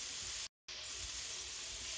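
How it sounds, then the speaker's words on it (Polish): Cubed pumpkin frying in a pan, a steady close sizzle and hiss that cuts out briefly, then resumes unchanged, with no speech. "I będziemy na patelce smażyć"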